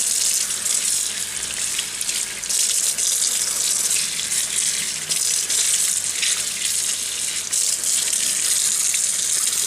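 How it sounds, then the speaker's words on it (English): Tap water runs steadily into a sink as vine leaves are rinsed under the stream, a continuous close hiss with slight splashing variations and no voices. "Wash in running water and"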